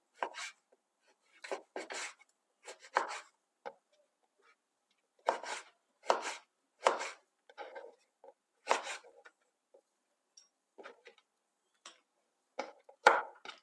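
Knife chopping eggplant on a cutting board in quick irregular bursts of sharp taps, close and fairly clear, with short pauses between runs.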